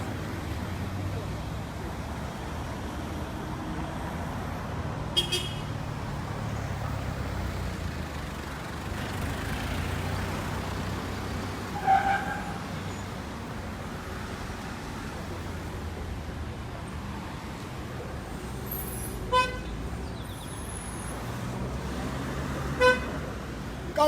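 Vehicle horns at a street protest outside the Prime Minister's office, with a few short toots sounding over a steady wash of traffic rumble and crowd noise, voices talking throughout.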